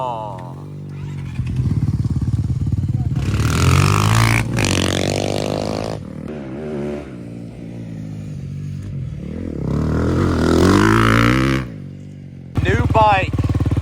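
A 250cc dirt bike engine revs up and down in repeated loud, close bursts with a short break near the end, while voices talk over it.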